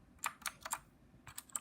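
Six crisp, close clicks from an RK61 mechanical gaming keyboard, three quick keypresses, a short pause, then three more in quick succession, with no talking.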